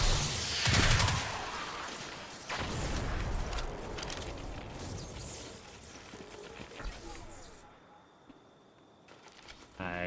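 Gunfire in the shooter Destiny 2, irregular bursts and bangs spread across the clip amid a busy game mix, loud at the start and fading toward a quieter stretch near the end.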